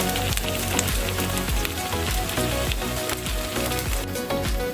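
Beaten egg and whole quail eggs fry in a pan for an omelette, giving a continuous, close crackling sizzle with scattered popping spatters.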